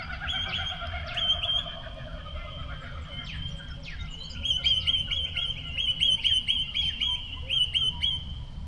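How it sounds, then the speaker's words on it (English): Birds chirp and whistle in repeated high, bright phrases in an orchard at early morning, over a soft outdoor background, growing more frequent and lively toward the end. "We woke up early to the sound of birdsong drifting through the orchard."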